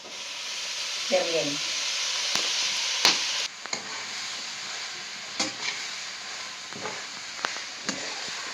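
Tomatoes sizzle in a pan for tomato chutney, a soft continuous frying hiss broken by several sharp clinks and scrapes of stirring, close but fairly quiet, with a few brief voice sounds.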